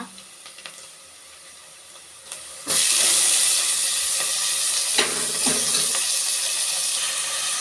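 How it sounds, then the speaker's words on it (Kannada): Tomatoes hitting hot oil with fried onions in a pan for rasam: quiet scraping at first, then a sudden loud burst of sizzling that keeps hissing steadily, with a few stirring knocks along the way. "ಟೊಮೊಟೊ ಚೆನ್ನಾಗಿ ಫ್ರೈ ಮಾಡ್ಕೊಳ್ಳೋಣ."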